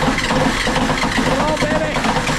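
A military surplus generator engine at a sawmill, starting up and running in a steady, loud mechanical drone that fills the whole short stretch.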